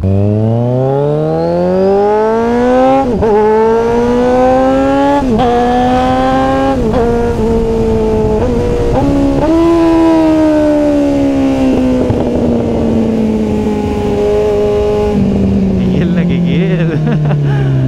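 A loud, close Kawasaki Z1000 motorcycle engine revving hard, its pitch climbing and dipping through repeated throttle blips and gear changes, roaring continuously.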